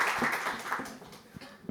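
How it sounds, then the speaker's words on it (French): An audience at a corporate communications summit in France applauds a speaker, a soft, steady patter of many hands that stays fairly quiet and fades slightly toward the end. "On peut l'applaudir bien fort."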